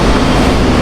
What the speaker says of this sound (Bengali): আর পাশে ট্র্যাক দিয়ে এক্সপ্রেস ট্রেন বেরিয়ে যাচ্ছে, এক্সপ্রেস না এটা মালগাড়ি